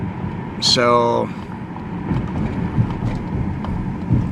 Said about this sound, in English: I hear a train. I can hear a horn.